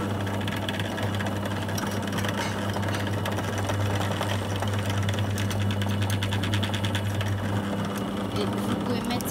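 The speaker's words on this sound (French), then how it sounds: "on va percer un trou au milieu avec une mèche de 4" Electric drill boring a hole with a 4 mm bit in the middle of a knife blank, a steady loud motor drone with a low hum running continuously.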